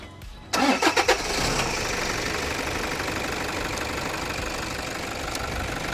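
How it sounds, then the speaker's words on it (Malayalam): A 2014 Toyota Fortuner diesel SUV cranks with a few quick pulses, catches, and settles into a steady, loud, close clattering idle that runs on evenly. "സോ നമുക്ക് വണ്ടി ഒന്ന് സ്റ്റാർട്ട് ചെയ്യാം."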